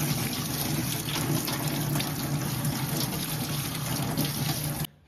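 Running water pours steadily from a tap while potatoes are rinsed under it, a constant splashing rush that stops abruptly at the end.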